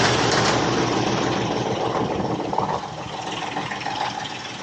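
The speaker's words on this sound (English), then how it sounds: "We had to jump start the tractor and letting it warm up now" A tractor engine idles in freezing cold after a jump start with a low rumble and faint rattle, holding an even pitch that eases slightly quieter midway.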